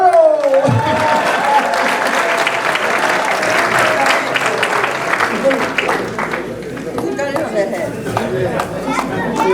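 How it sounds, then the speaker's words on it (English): Wedding guests at a traditional wedding in Boston break into a loud, sustained round of applause, dense clapping mixed with crowd chatter that carries on steadily for several seconds. "A round of applause for Nkolo."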